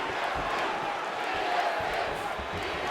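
A large arena crowd at a UFC fight roars and cheers steadily and loudly throughout, a dense, continuous wash of voices with scattered whoops rising above it.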